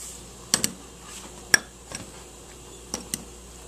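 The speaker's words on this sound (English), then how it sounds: "Get you a spoon and kind of stir it up." A spoon clinks against a bowl as salsa is stirred, a few sharp, light taps scattered over a few seconds with quiet scraping between them, close and fairly soft.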